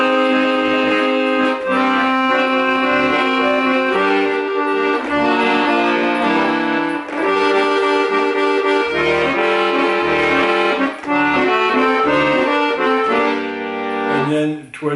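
Accordion plays the opening eight bars of a rhumba, a bright, sustained reedy melody over steady chords, close and continuous with no talking.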